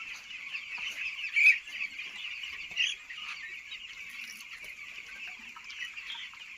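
Young poultry chicks on day seven of rearing chirp and cluck as a continuous many-voiced chatter, moderately close, with a couple of louder peeps standing out and no talking.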